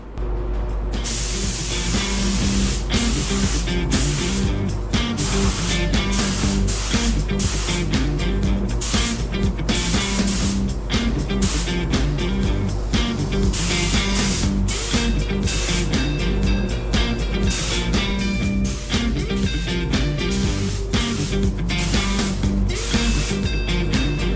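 Spray gun applies a third coat of paint to a 1997 Ford F250 transmission part, a steady close hiss running almost continuously with short on-off trigger bursts and faint clicks.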